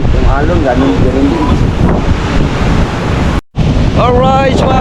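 Ocean waves at Bucana surge and wash amid heavy wind noise, with voices faintly audible and a brief dropout near the end.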